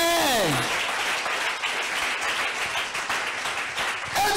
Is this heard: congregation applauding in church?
yes